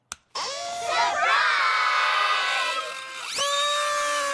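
Cartoon pony crowd in a My Little Pony episode, a loud sustained wave of excited cheering and shouting voices that swells, dips briefly and rises again.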